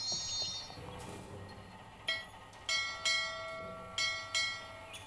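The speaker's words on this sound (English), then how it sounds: "I guess that's the bell from the seahorse itself too, that he kept." A bell from a seahorse rings in a video game treasure hunt, several bright metallic strikes spaced about a second apart, each ringing out and decaying, over a quiet background.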